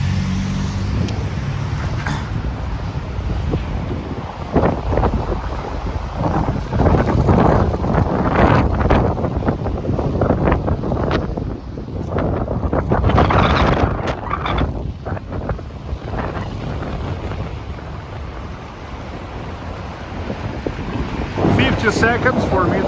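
Gusty wind blows across an open space beside the Neva River in St. Petersburg in the Christmas season, rumbling in surges against the microphone, with faint traffic and background noise underneath.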